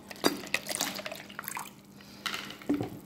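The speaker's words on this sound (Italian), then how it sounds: "In questa brocca ho dell'acqua frizzante ghiacciata e l'aggiungo" Ice-cold sparkling water with ice in it is poured from a jug into flour for fish batter, giving splashy bursts and gurgles in short uneven spurts, heard close and fairly loud with no talk.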